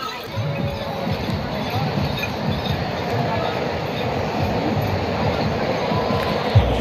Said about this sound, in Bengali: এদিক দিয়ে একটা ট্রেন যাচ্ছে হাওড়ার দিকে।